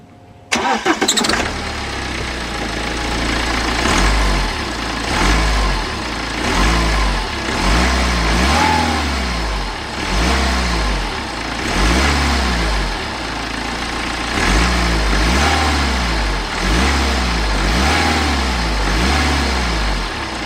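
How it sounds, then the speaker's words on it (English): A BMW N47 diesel engine with a boost leak cranks and fires, then runs loudly nearby with a rough, pulsing drone and repeated surges in revs, with no one talking. "Now we fire it up and discover we have an even bigger boost leak."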